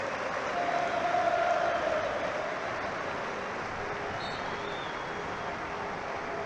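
Football stadium crowd at a Manchester United versus Charlton Athletic Premier League match applauding, a broad distant wash of clapping and crowd noise that swells briefly then holds steady.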